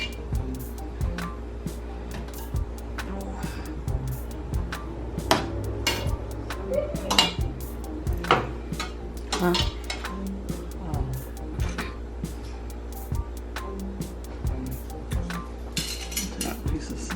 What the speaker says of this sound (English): So I'm gonna plate it now.